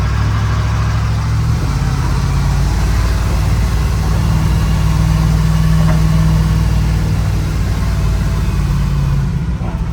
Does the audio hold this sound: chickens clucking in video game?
no